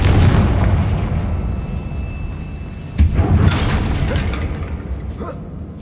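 Confringo spell blasting a bridge in Hogwarts Legacy: a sustained rumbling boom that swells again midway with a sharp burst, loud and close, trailing off in a low roar.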